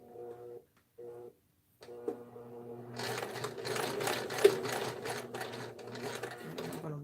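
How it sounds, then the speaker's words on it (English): Sewing machine stitching the other end of a piece of fabric, starting with a few brief hums, then a steady close mechanical clatter running alone for several seconds. "I'm getting ready to sew this other end on."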